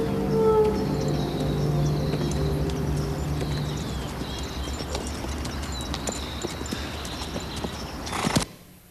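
Horse hooves clip-clop in a steady, close rhythm under a low sustained hum and a few tonal notes early on, all cutting off abruptly near the end.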